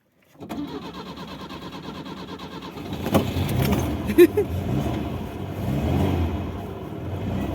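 An old Soviet car's engine cranks and catches, starting after a few seconds of grinding and then settling into a rough idle with uneven revs; a voice speaks briefly over it.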